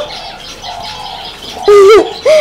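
Pet finches kept in a breeding setup in Pakistan, giving a few bright, close chirps and short tonal calls over soft background chatter from other birds.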